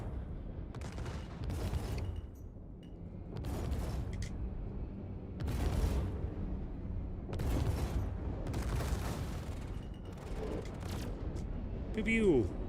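Spaceship cannons firing in a Star Citizen space fight, heard as repeated bursts of heavy blasts in separate volleys with short gaps between them, with a voice talking over parts of it.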